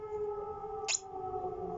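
A civil defense warning siren during a drill by Russia's emergency service, a steady multi-tone wail held at moderate distance, briefly interrupted by a short hiss near the middle.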